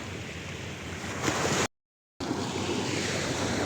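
Sea waves wash steadily onto a beach in Quezon province with a broad, continuous roar and some wind noise, cut by a brief total dropout midway. Nobody speaks.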